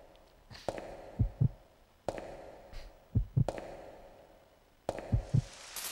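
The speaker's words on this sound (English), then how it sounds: "there's not a lot I can do about these door opening sequences, the heartbeat sequences" Heartbeat sequence from a door-opening scene in Resident Evil Code Veronica X, three repeating cycles of a door creak followed by a low double thump of a heartbeat, close and clear with no speech.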